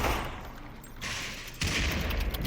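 Dense gunfire rattles through a match of the VR shooter Population: One, with bursts of rapid shots crowding the mix and surging again after a brief lull.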